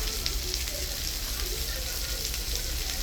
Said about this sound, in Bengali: কচুটা একটু নেড়ে চেড়ে ভেজে নিছ